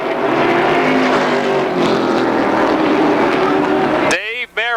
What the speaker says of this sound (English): Doesn't sound like it's hitting on all 8 cylinders.